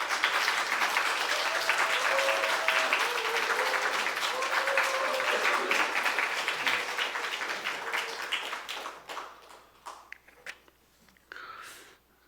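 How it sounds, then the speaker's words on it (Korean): A church congregation claps loudly to welcome a pastor, dense sustained applause that thins and breaks into scattered last claps toward the end, with voices murmuring underneath. "우리 박수로 크게 한번 환영하겠습니다"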